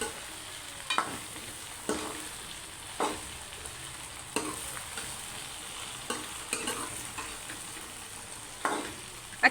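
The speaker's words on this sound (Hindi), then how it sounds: "अच्छे से चम्मच हिलाते रहें और भिंडियों को मिक्स करते रहें।" Okra with onions fries in a pan while a spoon stirs it. Scrapes and knocks come roughly once a second over a soft, continuous sizzle, close and alone.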